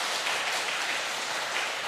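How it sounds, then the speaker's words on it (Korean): A church congregation at a Wednesday worship service applauds, giving a dense, steady patter of clapping at moderate volume throughout the short span. "심찬 박수를 한번 보내드리겠습니다."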